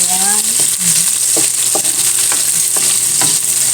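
Onion and garlic sauté in a hot pan with a steady, loud sizzle, broken by a few clinks of a utensil stirring against the pan.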